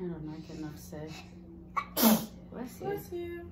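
A single sharp sneeze bursts out midway through a kitchen conversation, with people talking before and after it.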